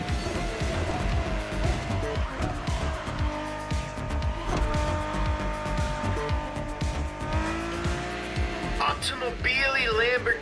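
Lamborghini and Ferrari race cars in the video game The Crew Motorfest roar with revving engines and repeated tire squeals. A rising whine of acceleration comes near the end, and a voice is heard faintly under the engines.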